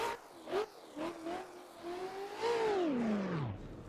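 Race car engine in a racing video game at Fuji, starting in second gear with short revving bursts, then a sustained climbing pull that sweeps down sharply as the car lifts off, moderately loud and without talk.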